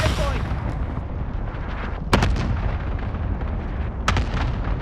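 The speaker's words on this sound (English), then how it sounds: "that missile there coming in" An incoming missile blasts in a first-person shooter match, with two sharp booming impacts about two seconds apart over a constant rumble of gunfire and battle noise, while players chatter throughout.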